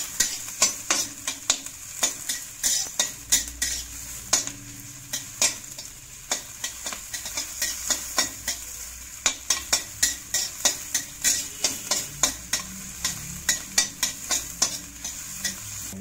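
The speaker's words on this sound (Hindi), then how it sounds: "इसके बाद डालेंगे गाजर, इनको हम अच्छे से थोड़ा सा पका लेंगे 30 सेकंड के लिए कम से कम।" Carrots and onion stir-frying in a pan for cafe-style noodles, a continuous close sizzle broken by quick, rhythmic scrapes and taps of a spatula against the pan.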